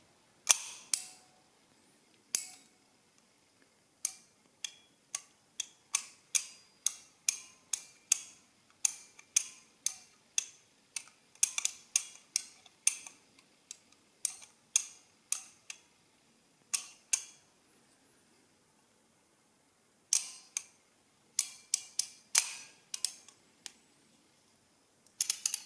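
An O.J. Adder mechanical adding machine clicking as its lever and dials turn, a long run of sharp dry clicks in irregular bursts and pauses, close and crisp against near silence.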